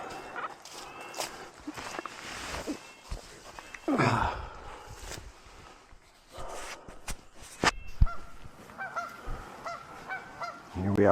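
Geese honk repeatedly at a beaver dam on a wilderness lake, loud, irregular calls from several birds close by, with footsteps and rustling movement between the cries.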